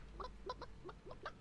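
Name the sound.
chicken clucking in the video game Realm Royale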